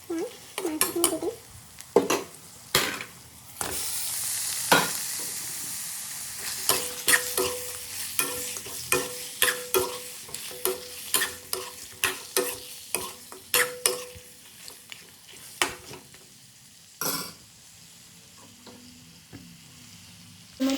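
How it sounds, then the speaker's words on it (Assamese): Meat sizzles in a pan with fried onions while a spoon scrapes and stirs it in quick, uneven strokes, the sharp clatter rising over a steady close frying hiss. "এতিয়া ইয়াত মই মাংসখিনি দি দিম।"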